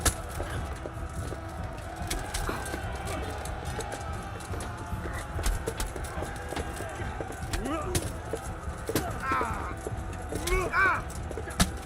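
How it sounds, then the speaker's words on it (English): Horses in a medieval video game set in Bohemia clip-clop with scattered hoof knocks against a busy ambient bed, fairly quiet, while a voice talks over parts of the scene. "I'd really love these horses to get out of the way."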